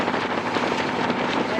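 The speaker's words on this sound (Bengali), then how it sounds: "জোর বাতাস বইছে" Strong wind sweeps over a boat heading downstream on the rough Padma river, buffeting the microphone with a loud, steady roar that does not let up for the whole short stretch.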